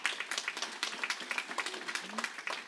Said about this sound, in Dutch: Dames en heren, geef er een heel groot applaus.